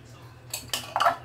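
Stirring ingredients in a silicone bowl with a lid, a few soft scrapes followed by a brief clinking knock near the end, close and fairly quiet over a low background hum.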